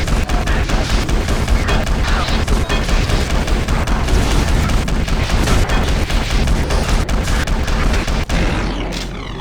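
Super shotgun blasting nonstop in Doom: The Dark Ages, loud dense rapid booms and gunfire layered with explosions and battle noise throughout, easing slightly at the very end.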